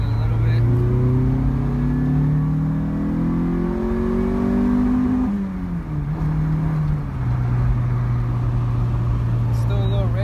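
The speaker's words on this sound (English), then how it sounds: "we're gonna do another third gear pull, see where the fuel's at" Honda CRX with a B17 engine revving hard through a third gear pull, the engine note climbing steadily in pitch, dipping briefly at a shift-like break, then droning on loudly; a voice speaks faintly beneath the engine.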